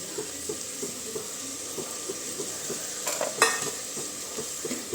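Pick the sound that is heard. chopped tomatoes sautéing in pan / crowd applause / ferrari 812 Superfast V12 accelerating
chopped tomatoes sautéing in pan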